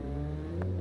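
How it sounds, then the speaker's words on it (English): A Formula Drift car engine drones with steady low harmonic tones, held at a constant pitch as if idling or revving, heard near and clear, with a brief hiss partway through. "that car sounds nasty"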